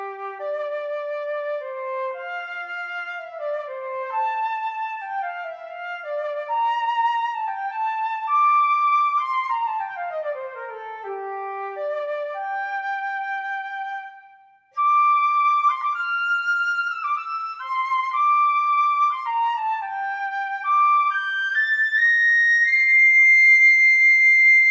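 Sampled orchestral woodwinds from the Orchestral Tools Berlin Woodwinds Legacy library play a flowing melodic passage, with clear sustained tones, stepwise runs and a brief gap near the middle before the line resumes, heard alone without talk.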